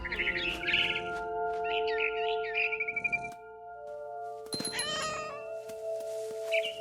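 A cat in the video game What Remains of Edith Finch meows and caterwauls in drawn-out cries, then birds chirp and tweet sharply in a game scene with a low steady tone underneath.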